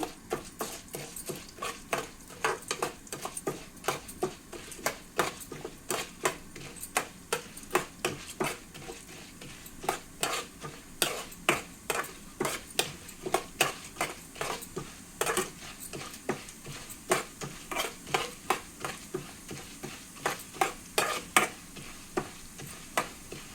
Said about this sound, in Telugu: కందిపప్పు ఇలాగ వేగుతుంది కదా